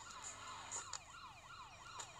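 A police car siren in a GTA video game wails in rapid repeating up-and-down sweeps, steady and fairly loud, with a few brief clicks over it.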